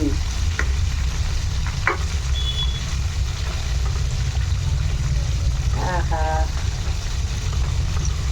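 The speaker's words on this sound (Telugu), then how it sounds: "ఇలా కదుపుతూ మధ్య మధ్యలో కలుపుకోవాలి మరి అటు ఇటు అన్ని సమానంగా ఈవెన్ గా వేగాలి" KFC-style chicken pieces frying in hot oil while being stirred and turned, giving a steady, loud, close sizzle with a few scraping stirs and a brief faint voice in the background.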